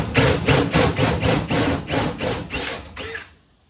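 Power drill boring through the aluminium of a ute's canopy above a trundle drawer, a series of about eight rhythmic, close grinding bursts that stop abruptly near the end.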